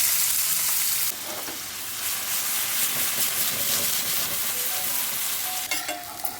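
Onion frying in oil with cumin, cloves, cinnamon and star anise for chicken masala, a steady close sizzle and hiss with occasional stirring scrapes throughout, no talking.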